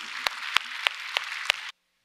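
A Korean church congregation at Sunday worship claps together in unison, five sharp, evenly spaced claps over a soft murmur before it abruptly cuts off.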